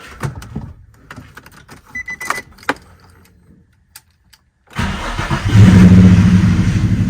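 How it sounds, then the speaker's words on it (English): Quiet clinks and rustles, then a Nissan G35 drift car engine with a misfire cranks and catches, settling into a rough, uneven idle that stumbles and sputters. "The problem that we're having is a misfire."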